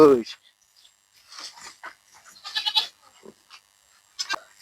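A goat bleats in a few short, wavering calls, near and fairly loud, separated by quiet gaps and mixed with people talking nearby.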